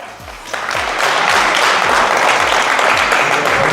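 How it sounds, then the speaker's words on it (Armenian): A festive crowd at a Yerevan family celebration claps for the host, sustained dense applause that swells after a quieter start and holds steady and loud throughout, with faint voices mixed underneath. "հեսա լսում ենք հիմա հանդիսաբարի ծափերը"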